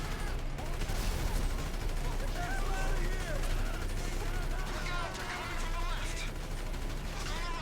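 Sustained automatic gunfire and scattered shots from a GTA 5 shootout cutscene, loud and continuous over a dense bed of game sound, with voices faintly mixed in.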